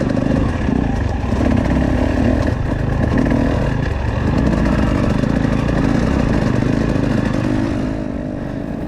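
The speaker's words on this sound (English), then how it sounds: "the little 250 is pretty easy to ride on this stuff" A 250cc two-stroke dirt bike ridden across rocky Negev Desert terrain, its engine droning loud and steady throughout with rough clattering and shifting revs, close to the rider and with no talking.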